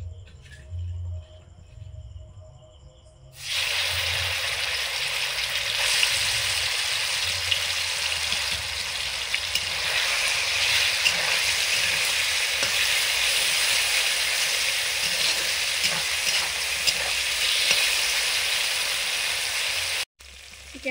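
Chicken pieces fry in refined oil with a loud, steady sizzle that starts suddenly after a few quiet seconds and hisses on continuously, without talk, until it cuts off near the end.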